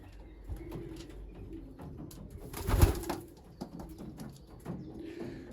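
Young racing pigeons coo softly in a loft, with low, repeated burbling calls, a brief louder rustle in the middle and faint scattered movements.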